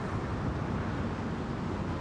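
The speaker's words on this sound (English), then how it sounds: "Pretty windy day up here." Steady low rumbling wind buffets the microphone throughout in Lower Manhattan, New York City, a constant dense roar with no voices.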